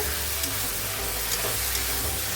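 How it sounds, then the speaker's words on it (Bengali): Fried cauliflower is stirred into sizzling spice masala in oil for a cauliflower and rohu fish curry. A steady, moderate sizzle runs throughout with faint stirring scrapes. "এখন ভেজে রাখা ফুলকপিটা অ্যাড করে দিলাম, দিয়ে একটু নাড়াচাড়া করব।"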